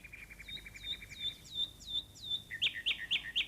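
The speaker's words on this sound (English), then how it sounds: "All around them, in the tops of the trees, the nightingales were singing." Nightingales sing high in the treetops, a quick series of rising whistled chirps followed by several brighter, sharper notes, clear and fairly close against a quiet background.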